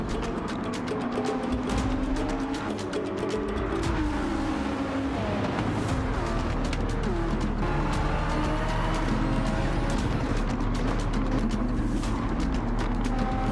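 A Nissan race car in the Gran Turismo 7 video game holds a steady engine drone as it accelerates and shifts through gears, with other cars audible around it and no talk over it.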